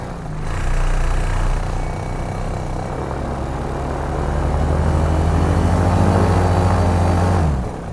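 A Sky Cima Power paramotor with an EOS 150 engine is eased up from idle, its propeller drone rising steadily and loud at close range for several seconds before cutting off near the end.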